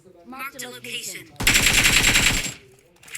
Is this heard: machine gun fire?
yes